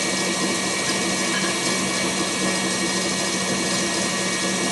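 An electric mixer whips meringue for a lemon meringue pie, producing a steady, dense whirring hum that continues unbroken for the whole stretch, with no voices.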